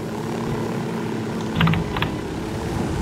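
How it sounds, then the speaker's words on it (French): A helicopter lands on a crane in the video game Ghost Recon Wildlands, its rotor and engine droning steadily and loudly throughout, with a few brief clicks partway through. "Tu crois qu'ils ont vu l'hélicoptère qui vient de se poser sur une grue au-dessus de leur"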